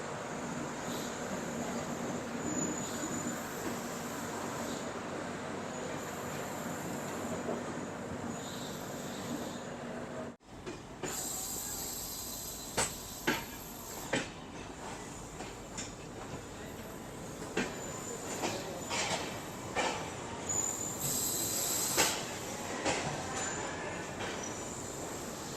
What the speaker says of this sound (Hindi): अपनी ट्रेन निकल चुकी है सुल्तानपुर रेलवे स्टेशन से